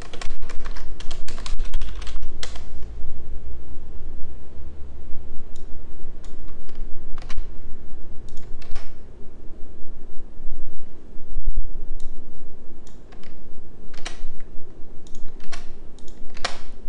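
Steady typing on a computer keyboard while a web form is filled out, close and clear, with bursts of key clicks and brief pauses throughout and no talk.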